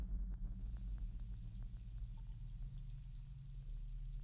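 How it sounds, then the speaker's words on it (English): A water gun being refilled in a video game gives a steady, soft pouring trickle over a low hum, with faint rhythmic ticks throughout and no talking. "I'm assuming I can refill my water gun here"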